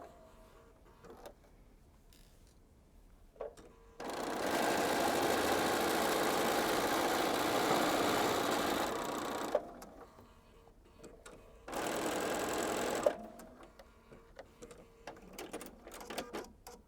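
A sewing machine stitching quilt borders runs in two bursts, a long steady whirring stretch and a shorter one later, close and loud, with quiet handling sounds of fabric and pins between them.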